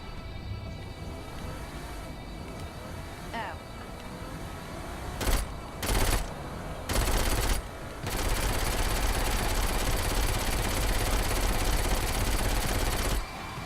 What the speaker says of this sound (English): Let's get the Tommy gun out.